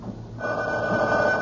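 A telephone bell rings steadily in a 1970s radio mystery drama, a sustained bright ringing that starts about a third of the way in and continues loud and unbroken to the end, with no talk over it.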